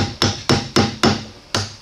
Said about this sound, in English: All you need to do is take a screwdriver and a hammer